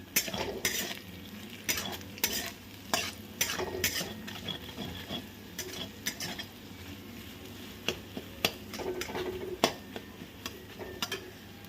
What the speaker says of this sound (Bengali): এবার দিয়ে দিলাম স্বাদ মতন নুন এবারে এটাকে মিশিয়ে নিন